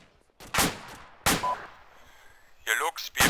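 Several sharp gunshot bursts crack out at irregular intervals in the game Arma 2, loud and close, with brief gaps of quieter background between volleys.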